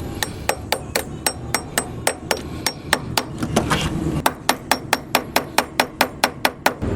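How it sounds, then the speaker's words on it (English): A small hammer taps down a positive battery terminal on a Honda or Acura, striking in a steady run of sharp close metallic blows, about three or four per second, with a short pause midway. "You might need to get a little hammer, tap that down."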